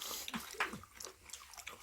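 Raw mullet sashimi belly being chewed at close range, faint soft bites and moist crunchy mastication sounds, quiet and brief with no talk.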